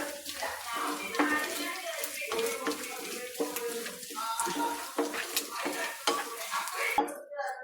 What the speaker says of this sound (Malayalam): തേങ്ങാക്കൊത്ത് നല്ലതായിട്ടൊന്ന് മൂക്കട്ടെ.